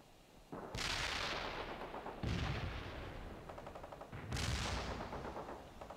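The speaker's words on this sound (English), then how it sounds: "Mortars will fire at the provided coordinates." Mortar barrage in the video game World in Conflict: three heavy booming impacts about two seconds apart, each a loud blast with a long rumbling decay, overlapping into sustained battlefield noise.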